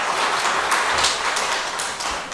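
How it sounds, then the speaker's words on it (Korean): A church congregation claps together during a Sunday worship service, a steady, loud burst of many hands sustained throughout with no talking over it. "예, 한번 박수해 주십시오."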